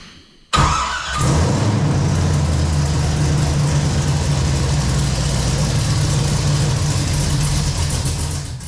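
A 1968 Camaro engine cranks and fires, then runs loudly with a rough, uneven idle that keeps rumbling steadily.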